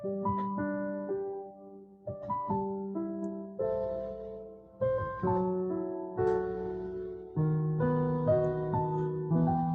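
Gentle solo piano plays a slow, soft lullaby melody with sustained chords and a calm, flowing rhythm.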